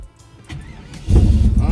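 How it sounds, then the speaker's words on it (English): A carbureted Camaro engine cold-starts: soft cranking gives way after about a second to a loud, rough idle that rumbles strongly and steadily through the rest of the moment. "Who said carburetors can't cold start?"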